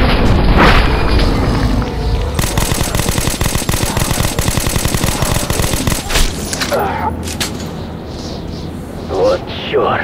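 Rapid gunfire rattles in Metro 2033 Redux, a loud machine-gun burst running for several seconds between booms, with voices shouting around it.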